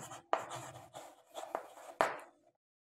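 Chalk or marker writing on a board during a maths lesson, a few quick scratchy strokes with sharp starts, close and fairly quiet, separated by brief pauses.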